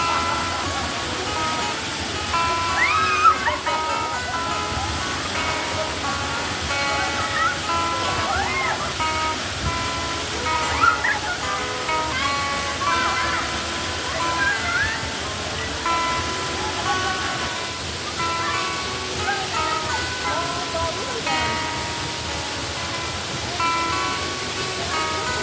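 A waterfall pours in a steady, dense rush that fills the whole scene, constant and fairly loud, with faint voices and splashing mixed in underneath.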